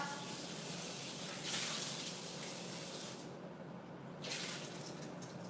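A faucet runs steadily into a sink while pork chops are rinsed, a continuous close hiss of water that briefly drops and then returns.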